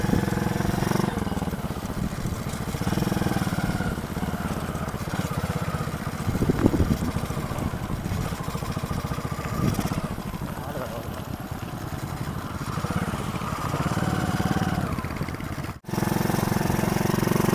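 A BMX bicycle fitted with a motorbike engine runs steadily on a road, its small engine droning with a constant buzzing hum that rises slightly, then cuts out abruptly near the end before restarting.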